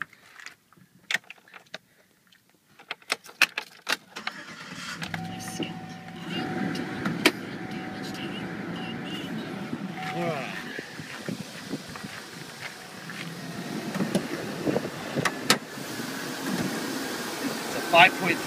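A 2011 Chevrolet Silverado 4x4 Z71 with a 5.3-liter V8 cranks and starts after a few clicks and rattles, then settles into a steady idle with people talking nearby.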